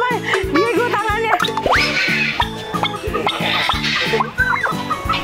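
Chickens cluck and squawk at a zoo amid a busy mix of bouncy cartoonish music and effects, with a voice briefly audible.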